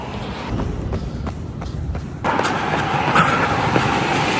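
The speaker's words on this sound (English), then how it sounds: "It's a bit windy. Certainly windier than I thought it was." Gusty wind buffets the microphone during an evening training run for the London Marathon, a constant rough low rumble that surges louder midway, with faint footfall thuds underneath.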